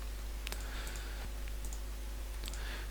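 Quick light clicks from a computer mouse during game development work, a handful of sparse, close taps scattered over a steady low electrical hum.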